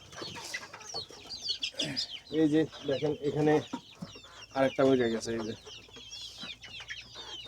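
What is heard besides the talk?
native chickens clucking on a farm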